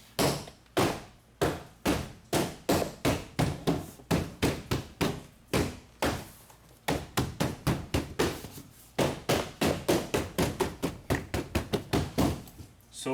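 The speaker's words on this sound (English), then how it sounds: "So we're gonna tap the door panel in." A Honda Odyssey door panel being tapped into place by hand: dozens of sharp, close knocks in a quick, regular rhythm, broken by two brief pauses, with no talking.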